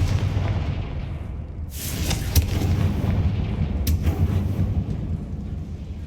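A Confringo blasting curse explodes in Hogwarts Legacy, a heavy booming blast with a sharp crack followed by rumbling, then a second crack a couple of seconds later over a low, continuous game ambience.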